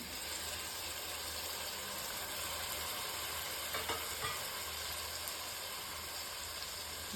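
Tomatoes going into softened onions in a pan for mutton gravy, a faint steady sizzle and frying hiss with a couple of soft stirring scrapes.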